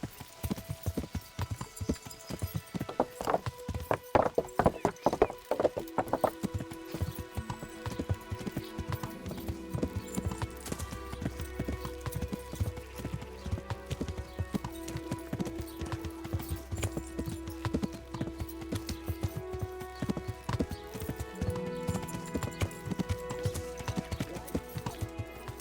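Horse hooves clip-clop in a steady galloping rhythm through much of the stretch in Kingdom Come: Deliverance, loud and close over layered game music and ambience, with no talk.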